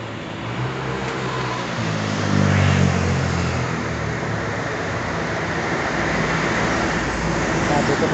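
Steady roar of highway traffic in Apalit, Pampanga, passing vehicles blending into a continuous wash of road noise with one car swelling louder as it goes by.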